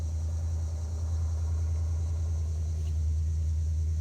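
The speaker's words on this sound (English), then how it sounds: "the exhaust is how it is now." A 2004 Audi B6 S4 with a true dual exhaust and an X pipe idles close by in a steady, deep, even rumble with no talking.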